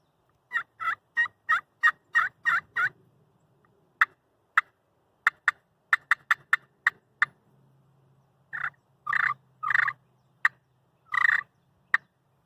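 Sharp, raspy yelps from a turkey pot call played with a chalked striker come in quick rhythmic runs, then scattered single clucks, followed by longer purring yelps, close and clear.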